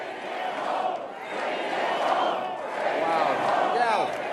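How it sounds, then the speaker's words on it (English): A big crowd at a Canada First political rally in Fredericton roars and cheers in steady swelling waves, with voices shouting within the dense noise and no one speaking clearly. "Look at this crowd"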